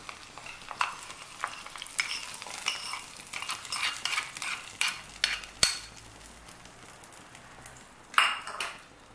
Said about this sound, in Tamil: கொட்டிட்டு நல்லா கிளறி விட்டுக்கோங்க.